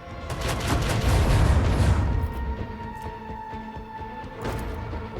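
Starboard cannons of a ship firing in the Rogue Trader game, a heavy rumbling volley that swells and fades, followed by a lingering ringing tone and a lighter second boom.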